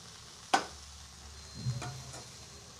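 Spice masala mixture for Vidarbha-style sambar vadi stirred in a pan with the gas turned off: one sharp scrape of the spoon near the start, then quieter scraping and soft stirring sounds, with no voices.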